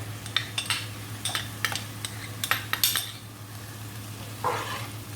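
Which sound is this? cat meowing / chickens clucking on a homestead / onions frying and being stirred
onions frying and being stirred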